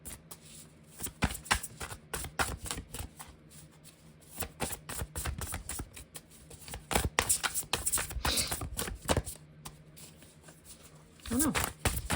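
Tarot cards are shuffled by hand in repeated quick riffling bursts, crisp and close, while someone talks over them throughout.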